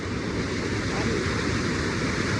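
Pantihan Falls pours down in a steady, full rushing roar close by, unbroken for the whole moment, with a little wind buffeting the microphone.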